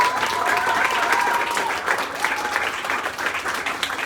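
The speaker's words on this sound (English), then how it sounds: "so let's give them a round of applause" Concert audience at a San Francisco club, Bottom of the Hill, applauding the support acts, with sustained, dense clapping and scattered cheers from a crowd that fills the room steadily throughout.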